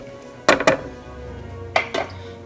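Rice and water for khichdi being stirred in a metal pot, with two pairs of sharp spoon clinks against the pot's side separated by a pause, close and clear with no talk.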